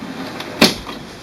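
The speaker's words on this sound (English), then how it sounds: "lift up the cartridge access door" A single short plastic clack as the cartridge access door of an HP OfficeJet printer is lifted open, close and brief against a quiet room hum.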